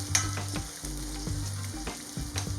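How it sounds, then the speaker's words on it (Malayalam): Ginger and sliced garlic fry in a pan with a steady close sizzle, broken by a few stirring scrapes and clinks, and no voices. "എല്ലാം ഒരു മിനിറ്റ് നന്നായിട്ടൊന്ന് മൂപ്പിച്ചെടുക്കണം"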